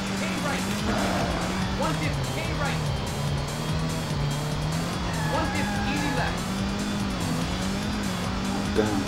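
Race car engine in Sega Rally 2 on Dreamcast drones steadily with shifting pitch, tires squealing through corners, loud and continuous while someone talks over it.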